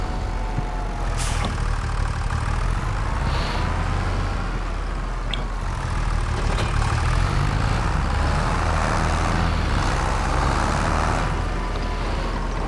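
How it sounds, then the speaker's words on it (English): A small farm tractor with a weeder attached runs steadily nearby, its engine holding a continuous low, even drone throughout with a few faint clanks over it. "Get our little tractor out."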